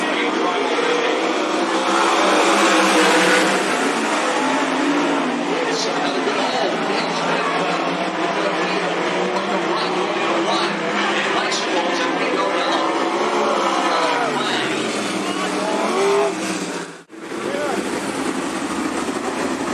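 Sprint cars of the American Sprint Car Series roar around the Cottage Grove Speedway track, a loud continuous engine drone with a public-address announcer talking over it, then a brief dip near the end.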